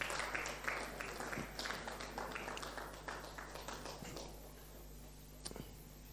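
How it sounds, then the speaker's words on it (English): Church congregation clapping together in unison during an evening service, a steady run of overlapping claps that thins out toward the end, with a couple of sharper taps near the close. "If you are clapping, you can"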